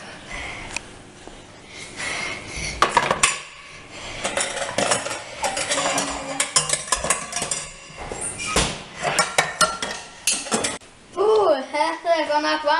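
Pots, pans and cutlery clattering in a hot kitchen where cockerel chickens are being fried, with irregular bright metallic clanks and scrapes spread through the clip under frequent talking voices.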